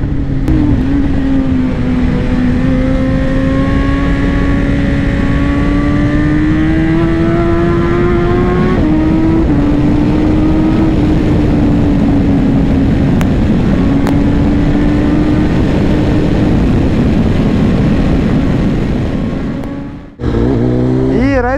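A BMW M 1000 XR Competition 2024 motorcycle engine drones loudly and steadily while riding, its tone rising slightly and dipping once, then cutting off abruptly near the end.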